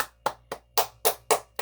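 Six sharp hand claps in a slow, even rhythm, close and fairly loud, with no voices over them.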